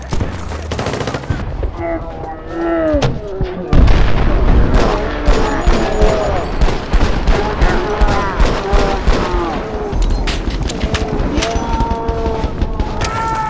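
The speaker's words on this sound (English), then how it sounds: "Guys in front of us firing." Loud, close gunfire in the first-person shooter Battlefield: Bad Company 2, with a heavy blast followed by a long stream of sharp repeated shots and clatter while players talk over it.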